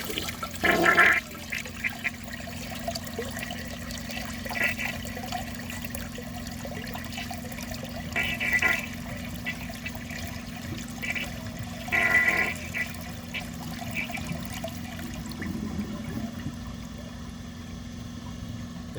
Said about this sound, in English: Now let's see how it flushes with a clogged siphon jet.